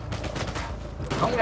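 Rapid gunfire in the video game Uncharted 4, set in Scotland, with dense overlapping shots and a louder burst toward the end, a voice faintly present beneath.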